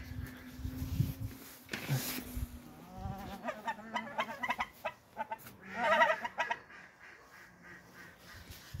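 Forest fowl in a farm henhouse give scattered clucks and calls, faint and intermittent against a quiet background.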